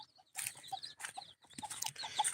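Gavran desi hens and chicks forage loose, giving a quick run of soft clucks mixed with high chick peeps, close and fairly quiet.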